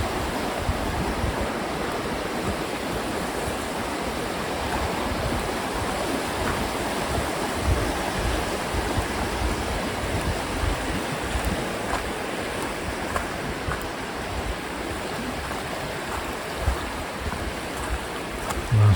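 River Dane flowing beside a narrow riverside footpath near Wincle in winter, a steady broadband rush of moving water, continuous and fairly close, with no talk over it.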